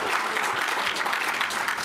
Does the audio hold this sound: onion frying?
no